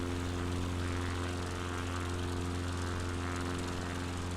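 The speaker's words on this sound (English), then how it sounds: "any faster and my plane's complaining about over rev" Propeller plane engine over-revving in Microsoft Flight Simulator, a constant loud droning buzz with strong steady harmonic tones, unbroken and alone for the whole stretch.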